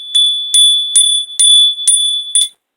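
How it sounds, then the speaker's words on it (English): A small bell is struck six times at a steady pace, each ring bright and close, ringing out briefly before the next strike, with no talking. "Let me hit the bell."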